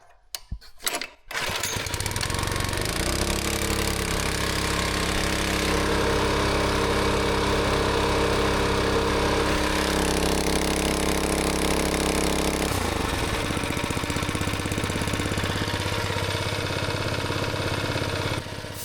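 An old gas-powered air compressor engine starts with a few sharp pops, then runs at a steady loud drone before dropping to a lower idle, with throttle changes audible, near and alone without talk.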